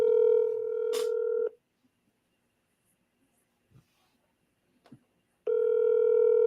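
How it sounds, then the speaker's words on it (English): Touch-tone dialing beeps while placing a call, a sustained multi-tone burst at the start and again at the end with quiet gaps and faint clicks between, fairly loud and close. "We're calling McBee"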